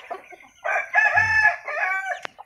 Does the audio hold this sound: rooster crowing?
yes